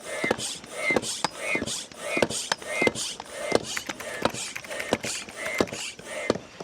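Hand pump inflating an inflatable boat, working in a steady repeated rhythm of about a dozen quick strokes, each a short airy whoosh with a slight mechanical creak, close by and fairly loud.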